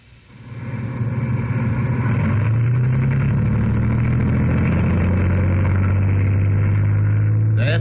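A tracked military vehicle's engine rises from a low idle into a steady, loud, heavy drone as it drives to climb out of a ditch, with its pitch climbing gradually as power increases.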